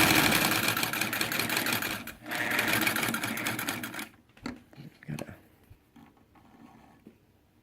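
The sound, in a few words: Singer 99k sewing machine running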